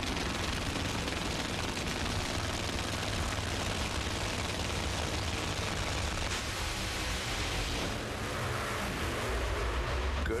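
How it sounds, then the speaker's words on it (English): Roaring blast of a top fuel funny car engine exploding during a drag race at the O'Reilly Summer Nationals, a loud, dense, continuous broadband roar that holds at full volume for about ten seconds. "big explosion for Jim Head's car"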